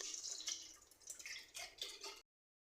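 Milk poured from above into a cooking pot for homemade jaggery sandesh, a close liquid splashing and dripping stream lasting about two seconds before cutting off.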